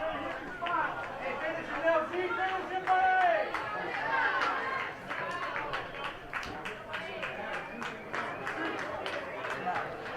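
A packed baseball crowd at Riverside Park during a Class C state tournament game between Buffalo and Fairmont, a moderate hum of chatter with scattered claps and cheers rising in bursts, heard from a distance.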